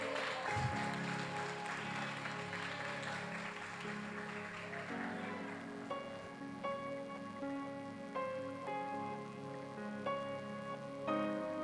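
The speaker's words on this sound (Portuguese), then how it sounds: "Aplauda o Senhor." Congregation applause in a church service, clapping that begins strongly and fades as organ or keyboard tones rise and carry on beneath it.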